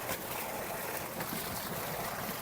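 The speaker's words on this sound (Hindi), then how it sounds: "ये होते हैं खुले पानी की मौजें" Open-water waves wash around a boat on a flooded river, a steady rushing swash with wind noise, close and continuous.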